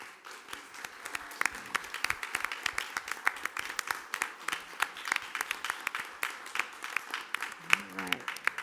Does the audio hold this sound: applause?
yes